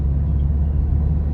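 A Toyota Vios Gen 3 driven in manual mode, its engine a steady low rumble with broadband road noise heard from inside the cabin, continuous and fairly loud.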